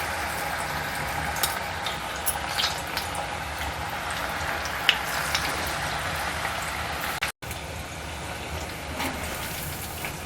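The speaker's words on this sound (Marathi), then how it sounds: "आता आपण भजी तळूया" Moong dal fritters (bhaji) frying in hot oil make a dense, continuous crackle like light rain, close and even, with no voices.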